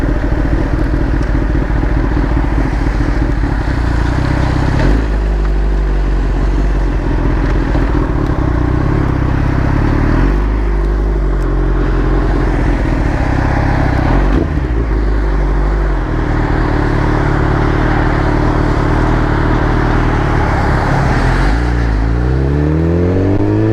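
A 2011 Kawasaki ZX10R ridden along a road, its engine droning steadily and loudly throughout with shifting revs, wind rumble and small clatters, recorded from on the bike with no talking.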